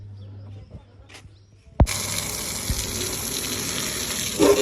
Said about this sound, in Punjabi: ਹੁਣ ਇਹਨੂੰ ਧੋਣੇ ਆ ਧੋ ਧੋ ਕੇ ਬਣਾਉਣੇ ਆ ਵਧੀਆ ਚਮਕਦੀ ਚਮਕਦੀ